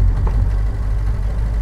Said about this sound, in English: Sounds like it's got straight cut gears,